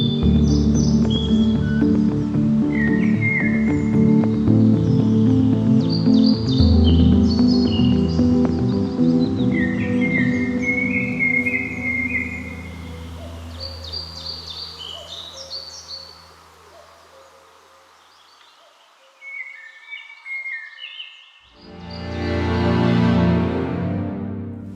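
Layered birdsong over a low hooting owl, chirps and whistled phrases repeating through a dense chorus before fading, then a short loud burst of noise near the end.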